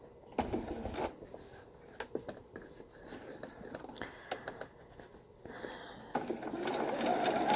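A sewing machine stitches fabric for a girl's civil war era dress, a faint close mechanical whir running in short bursts with pauses and small handling noises.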